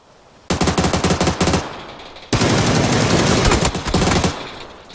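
PUBG Battlegrounds gunfire on Xbox, loud and close: a rapid automatic burst of evenly spaced shots, a brief pause, then a longer dense stream of fire that breaks into separate shots at the end.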